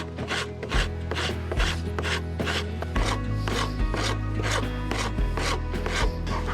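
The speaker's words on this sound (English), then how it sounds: "I'm going to take this rasp and just make those tapers right now" A hand rasp files tapers into the limbs of a wooden bow built from hardware store materials: steady, evenly paced rasping strokes, about ten in a row, close and loud over a low background hum, with no talk.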